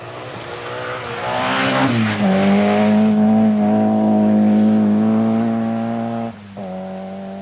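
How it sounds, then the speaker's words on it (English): A Volkswagen Golf 16-valve rally car at a 1986 RAC rally revs its engine hard, a loud, sustained, near engine note that climbs, holds steady, then drops briefly as the driver shifts. "Kenneth Eriksson was driving the 16-valve Golf entered by the German company"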